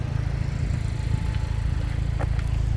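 A 2017 Mazda MX-5 Miata RF with a BBR Stage 1 turbo kit and upgraded exhaust runs at a steady, low idle, a constant even rumble close by with no revving.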